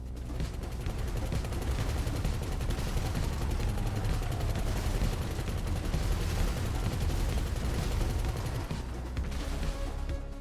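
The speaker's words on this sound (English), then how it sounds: "we buffed it to the Rogue's explosive MGs, giving it much more power" Explosive machine gun fire from a Rogue jet's MGs mounted on an Annihilator Stealth helicopter in GTA 5 Online, a dense, continuous rattle of rapid shots and blasts lasting the whole stretch, loud and close.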